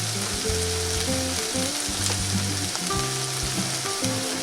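Steak and green onions sizzle steadily in a frying pan, a continuous close hiss and crackle of frying with no voices, holding an even level throughout.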